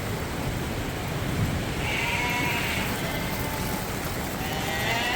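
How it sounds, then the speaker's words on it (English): Ice and rain falling outside on a sheep farm, a steady dense hiss of precipitation filling the air without a break, with no talking. "That's ice and rain and"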